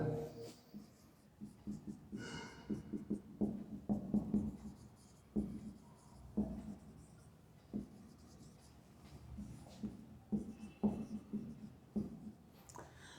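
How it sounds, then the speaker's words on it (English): Chalk or pen scratching out a chemical equation by hand in a classroom chemistry lesson, a steady series of short scraping strokes and taps with brief pauses between words, close and fairly quiet with no talk. "So first we write the equation,"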